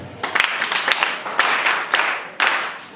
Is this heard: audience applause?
yes